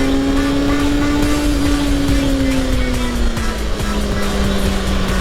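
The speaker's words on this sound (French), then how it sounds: "c'est le pot d'échappement." A 2015 Kawasaki ZX-6R Ninja 636 sport motorcycle with an aftermarket exhaust, a steady loud engine drone whose pitch slowly falls while riding, with continuous wind noise.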